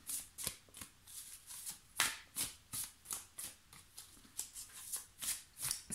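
A deck of cards being shuffled in a steady run of crisp riffles and flicks, repeating roughly every half second, close and fairly quiet with no voices.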